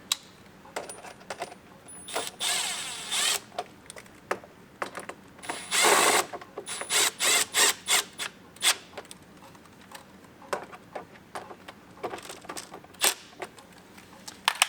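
A power driver runs short whirring bursts as it tightens Rokblokz fender screws on a 2021 Yamaha Wolverine RMAX2 1000, with a longer burst midway and small metallic clicks and taps between pulses.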